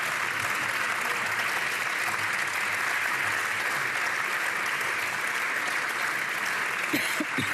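Applause sounds in the French National Assembly chamber, a sustained, even wash of many hands clapping at moderate loudness, with a brief voice near the end.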